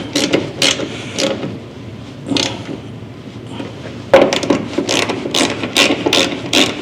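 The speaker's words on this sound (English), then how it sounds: "First thing I want to do is tighten these bolts here so that the fender will be all the way forward" A ratchet clicks in quick bursts tightening bolts on a Scout Yukon fender, close and crisp metallic ratcheting with short pauses between strokes.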